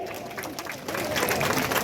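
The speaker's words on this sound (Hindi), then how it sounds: "लगाओ ताली" An audience at a political rally breaks into clapping that swells from scattered hands to denser, louder applause, with crowd murmur underneath.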